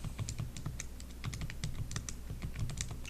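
Rapid, steady tapping of keys as numbers are punched into a calculator, a close, quick run of light clicks with short pauses between bursts and no talking.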